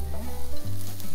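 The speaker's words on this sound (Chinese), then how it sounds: "咱们先把香菇给炒出来" Shiitake mushrooms sizzle and crackle steadily in a hot pan while being stir-fried for japchae, a close, continuous frying hiss with a low stove hum beneath.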